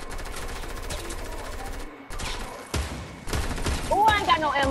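Rapid bursts of gunfire from the video game Fortnite, dense and continuous through most of the clip, with a short gap and then renewed firing and a voice exclaiming over it near the end.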